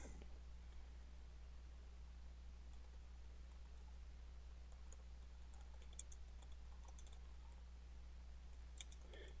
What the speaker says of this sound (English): And then type in your description.